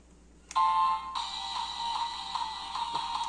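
A Desire Driver toy transformation belt sound effect starts abruptly: a bright electronic chime followed by a sustained, buzzy synthesized tone with small pulses, fairly close and alone.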